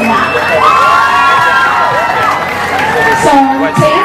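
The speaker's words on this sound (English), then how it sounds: "So can we just give a quick round of applause to that?" Crowd at an Eritrean festival cheers and shouts, with high excited voices and ululating calls rising over a busy outdoor babble, close and loud throughout.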